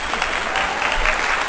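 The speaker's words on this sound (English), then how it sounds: "Round of applause." An audience breaks into steady applause, a brief dense burst of clapping that fills the whole moment at close range.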